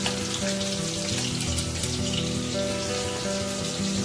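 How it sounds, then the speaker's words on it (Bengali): Fish frying in a pan in a home kitchen, a steady broadband sizzle crackling continuously throughout at moderate level, with faint tonal hum underneath. "এই যে মাছ ভাজতে বসে গেছে।"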